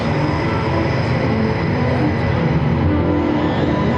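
A C-47 (DC-3) warbird lifts off at the Andrews AFB airshow, its engines a loud, steady, dense roar that fills the whole moment without pause.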